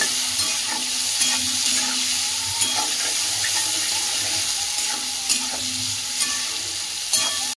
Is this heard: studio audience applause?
no